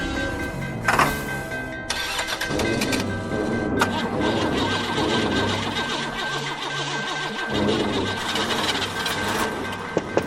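Car engine cranking repeatedly as it fails to start in a radio drama, a grinding, stuttering starter whir that keeps cutting in and out, close and loud with a brief voice in between.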